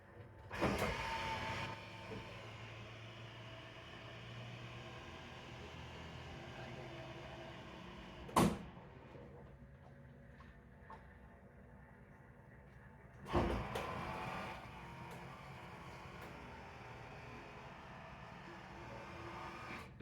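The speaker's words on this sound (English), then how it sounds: "Now let's see how the window works." The side window of a 3rd gen Camaro or Firebird being adjusted, with an electric motor whirring briefly at the start, a sharp snap or clunk midway, then another motor run, all fairly faint and close.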